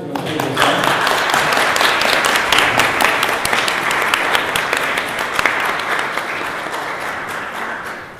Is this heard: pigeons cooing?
no